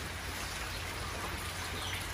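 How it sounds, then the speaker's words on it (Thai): Steady rain falls in a dense, even patter, close and continuous for the whole stretch with no voices. "บรรยากาศที่ฝนตกนะคะครึ้มฟ้าครึ้มฝนนะคะ"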